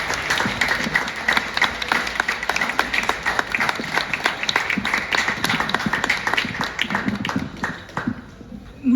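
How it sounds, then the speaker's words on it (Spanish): Sustained applause from an audience, dense clapping that runs steadily for several seconds before tapering off near the end. "Un fuerte aplauso, por favor."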